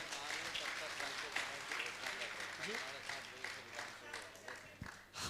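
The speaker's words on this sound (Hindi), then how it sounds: "ऐसे व्यक्तित्व के लिए आपकी तालियां बहुत कम बज रही हैं।" Faint applause from an audience at a religious gathering with a Jain monk, soft clapping mixed with voices and murmuring, never very loud.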